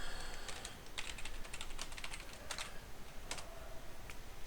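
Rapid keystrokes clatter from a computer keyboard as a message is typed into chat in the online game Pax Dei, irregular bursts of clicks close up over a steady hum of background noise.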